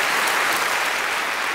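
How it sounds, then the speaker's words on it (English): A theatre audience at a stage magic show gives a loud, dense round of applause, continuous clapping heard alone from within the crowd. "Round of applause for our 6 men."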